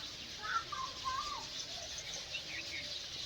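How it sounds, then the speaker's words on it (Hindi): Birds chirp and twitter in a garden, several short bright calls rising over a steady hum of insects, fairly faint and at a moderate distance. "और बच्चों के साथ साथ आज पक्षियों की चहचहाट, जिसे कलरव कहते हैं"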